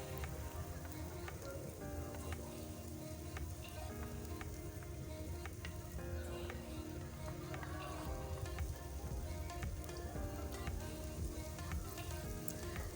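Carrots, onions, green pepper and chilies sauté in a pan for an eggplant stew, giving a steady, soft sizzle with scattered small pops and crackles, no voices.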